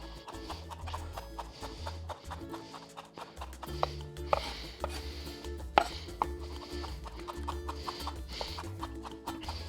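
A knife chops through fresh herbs on a cutting board, a steady series of sharp, close taps with short pauses, set over a soft background of music.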